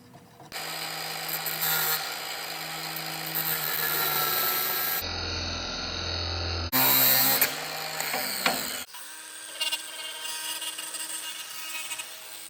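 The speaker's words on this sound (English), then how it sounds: "I'm going to spin this jam nut all the way down" A jam nut being spun down on the clevis of a truck brake chamber, heard as a steady close metallic whirring and ratcheting that breaks off abruptly and resumes in sections.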